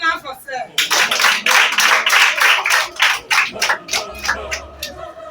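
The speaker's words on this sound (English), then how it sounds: "Let's clap for Sir." Audience applause at a school Farmers Day celebration, a dense burst of clapping that starts after a brief pause and carries on steadily for several seconds, loud and close, with some voices mixed in.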